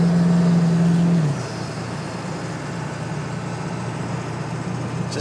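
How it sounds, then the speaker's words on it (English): A 1999 Ford F250 with a 7.3L diesel engine and four-wheel drive rolls along, its low steady engine drone and road rumble continuous. A sustained low tone drops away after the first second. "Just an old truck with a diesel motor and four-wheel drive"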